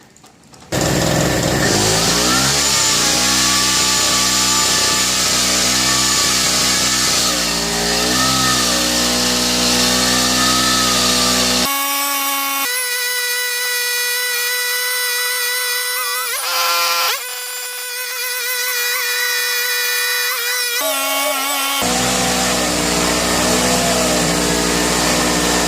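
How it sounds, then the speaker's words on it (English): A Powersmart PS6108 extendable pole saw with an 8-inch bar cuts through a log about 9 inches thick. Its loud, continuous motor whine runs the whole time, and the pitch and tone shift noticeably as the chain bogs and recovers under load. "is a log that's probably 9 inches, maybe a little more than 9 inches big, to cut with an 8-inch pole saw"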